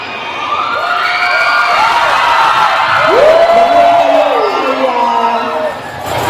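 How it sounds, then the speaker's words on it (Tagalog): A large crowd in Hong Kong cheers and chants a politician's name, loud rising shouts and whoops from many voices, with sirens or whistles wavering over the din. "sumisigaw ng Duterte"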